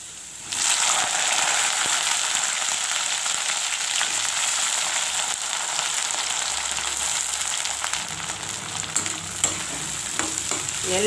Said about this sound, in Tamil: நல்லா அந்த எண்ணெயில் இந்த கத்திரிக்காயும் நல்லா வதங்கணும்.